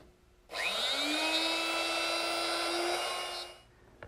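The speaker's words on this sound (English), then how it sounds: "So I need to route out a little more material to allow for that spring." Wood router lowered in a jig to cut a deeper, narrower mortise, a steady high-pitched whine that spins up quickly, runs about three seconds and winds down, heard close and alone.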